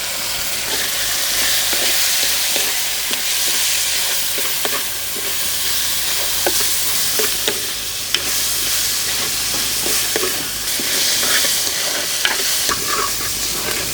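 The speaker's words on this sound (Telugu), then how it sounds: "వెంటనే ఉల్లిపాయలు, కరివేపాకు కూడా వేసుకుని ఈ ఉల్లిపాయలు కొంచెం కలర్ మారే వరకు వేయించుకుందాం" Onions, curry leaves and fenugreek seeds frying in hot oil give a steady, dense sizzle with occasional pops and faint stirring scrapes, close and continuous with no voices.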